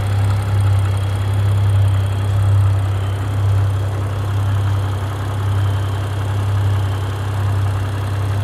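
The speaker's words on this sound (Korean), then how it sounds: "엔진 소리 일정하네요" A BMW 8 Series G15 840i xDrive M Sport First Edition coupe idles with its engine bay open, giving a steady, even low hum that holds close and loud without change throughout.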